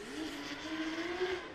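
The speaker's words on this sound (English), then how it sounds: "That's a weird noise that car's making." A 2JZ-engined R33 Skyline drift car at a British drift championship round on a track, a loud sustained engine drone with a rising whine and tyre noise, no voices.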